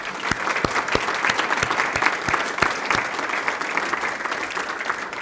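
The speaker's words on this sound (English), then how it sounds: "let's give them a round of applause" A university alumni awards dinner crowd applauds steadily, many hands clapping in a dense, continuous wash with a few sharp nearby claps standing out, and no talking over it.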